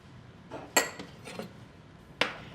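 A spoon clinks against a bowl while salt is stirred into hot caramel. Three or four light metallic taps sound at close range, quiet and spaced apart, with brief scraping between them.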